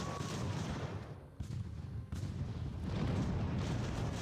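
Artillery fires during a land battle in the strategy game Ultimate Admiral: Age of Sail, with a couple of heavy, muffled booms rising out of a constant rumbling battlefield din and no talk.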